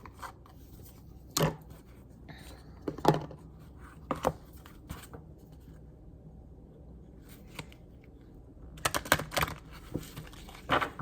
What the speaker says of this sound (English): gonna pull a couple cards from the Archangel Oracle deck